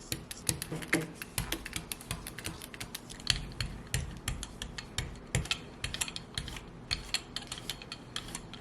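A paint roller rolls lilac paint across a gel plate, giving a close, steady run of sticky clicking and tacky crackling ticks with an uneven rhythm and no voices.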